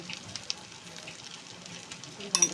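Chicken liver pieces frying with turmeric in a pan, with a close, steady sizzle, a few light taps from stirring, and a sharper burst of clatter at the end.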